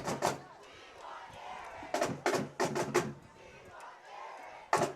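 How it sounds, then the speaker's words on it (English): A high school football student section in the stands chants a rhythmic three-beat cheer in bursts, fairly distant and muffled, over a low crowd murmur. "as the student section in the crowd begins to chant, "We want Eric,""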